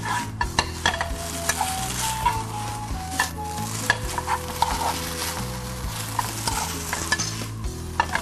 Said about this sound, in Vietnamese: Chúng ta xào đều lên ha.